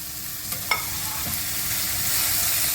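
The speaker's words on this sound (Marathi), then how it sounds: "आता त्यामध्ये टोमॅटो घालून तोही चांगला परतून घ्यायचा आहे" Chopped tomatoes sautéing with browned onion and coriander in a pan for whole masoor dal, a loud continuous sizzle with a few spoon scrapes and clinks early on, no talking.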